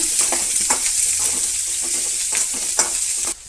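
Boiled potato being stir-fried with onions in a pan for samosa filling, a continuous crackling sizzle with frequent scraping strokes of the spatula, close and loud, no speech.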